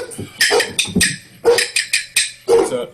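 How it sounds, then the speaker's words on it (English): A pet dog barks in sharp, repeated bursts, roughly seven close yips and barks over a few seconds in a home setting, loud and near, with no talk over it. "Sorry, you can hear my dog barking."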